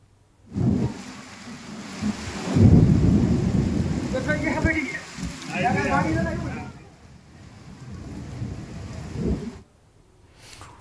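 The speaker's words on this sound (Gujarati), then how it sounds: "તો આ તરફ અમદાવાદમાં પણ પવન સાથે વરસાદી માહોલ જામ્યો છે।" Heavy rain and gusting wind lash Ahmedabad during a storm, a steady broadband roar with low rumbles, while voices talk over it for much of the time.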